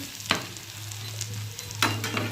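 Onion fritters (peyaji) frying in hot oil give a steady close sizzle with a low hum underneath, and two sharp clatters of a utensil at the pan break through.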